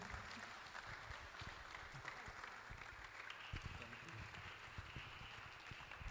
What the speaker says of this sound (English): Please, let's not stop clapping